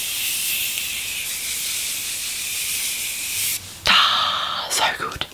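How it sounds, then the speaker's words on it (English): Morphe setting spray spritzed across a face: a long continuous hiss, then a short sharp burst, with a voice briefly heard near the end. "I'm going to spritz my face a lot with the Morphe setting spray"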